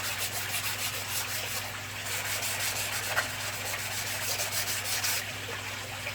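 Aluminium oxide sandpaper rubbed along the sharp cut edges of a filter foam piece for a shrimp tank, giving a steady close scratchy rasp in repeated strokes over a low background hum, with no talking.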